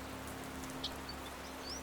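Steady rain patters outdoors in a soft, even hiss, with a few faint bird chirps over the top; no one speaks.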